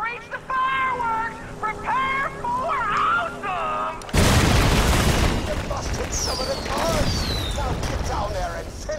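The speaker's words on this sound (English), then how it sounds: "I saw those explosions from here." In the video game Borderlands 2, enemies on a bridge are blown up: a sudden loud blast erupts mid-scene and leaves a rumbling, crackling wash of explosions and gunfire, with a voice talking before and over it.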